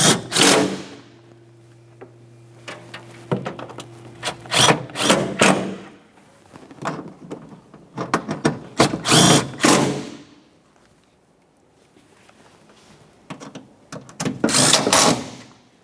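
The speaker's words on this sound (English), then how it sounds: "Let's tighten those 10mm bolts." A power tool drives 10mm bolts on the ignition coils of a 2011-2020 Toyota Sienna 3.5L V6. Several close bursts of whirring come one after another, with short pauses and a clatter of handling between them.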